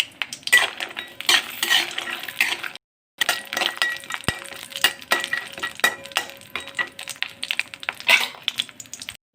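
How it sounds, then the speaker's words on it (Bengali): Bori lentil dumplings frying in mustard oil in a hot wok, stirred with a metal utensil that clinks and scrapes against the pan over a soft sizzle, with a brief silent break partway through. "প্রথমে বড়িগুলো ভেজে তুলে নেব।"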